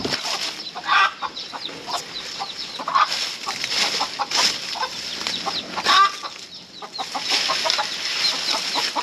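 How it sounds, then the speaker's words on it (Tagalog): Chickens in a rural yard cluck repeatedly and irregularly, close and fairly loud, with occasional sharper calls breaking through a steady outdoor background. "Mga manok dito."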